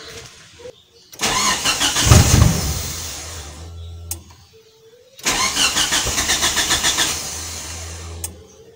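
A Mitsubishi Lancer GTI engine cranks in two separate attempts without catching, each a loud, rhythmic starter-motor chug lasting a few seconds, with quiet pauses between, heard close up.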